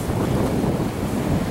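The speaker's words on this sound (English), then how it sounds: "Look at the waves crashing, babe." Ocean waves wash and surge around a sailboat under steady wind rush, a loud continuous roar with low rumbling and no talk.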